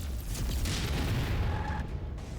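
Dense, rumbling barrage of mech weapon gunfire in MechWarrior 5, continuous heavy booms and rattling shots blending into a loud, sustained low roar with no talk.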